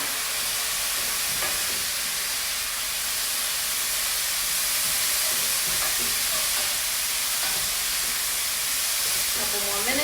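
Cauliflower fried rice fries in a pan with a dense, continuous close hiss and sizzle, stirred now and then with faint scraping strokes across the whole stretch.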